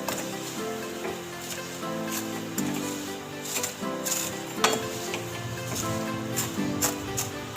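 Vermicelli (sevaiyan) frying lightly in a pan for sheer khurma, with a steady soft sizzle and occasional clinks and scrapes of a spoon stirring against the pan, close and continuous.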